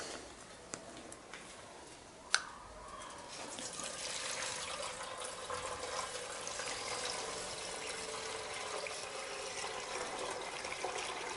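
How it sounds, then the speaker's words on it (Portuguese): Gasoline pours from a container into an improvised funnel while filling a chopper bike's tank, a steady liquid gush building after a couple of faint clicks and running continuously at moderate level with no talking. "E vou botar a gasolina no meu funil improvisado aqui"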